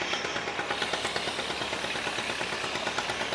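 A diesel engine drives a heavily loaded cargo boat carrying stone on a river, chugging steadily with a fast, even pulse and a broad rattling drone, near and continuous with no talk.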